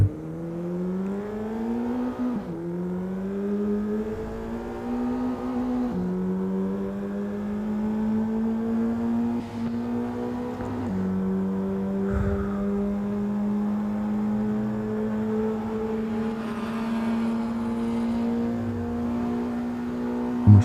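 Citroën Xantia engine in Assetto Corsa, revving steadily through rising gear pulls. Each climb in pitch ends in a drop at the shift, and the drone runs continuously at close range with no voices.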